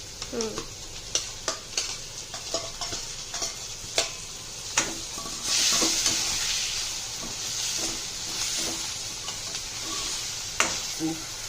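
Onion and tomato frying in a pan for poha, a steady soft sizzle and hiss with repeated clicks and scrapes of stirring, close by and with no talk.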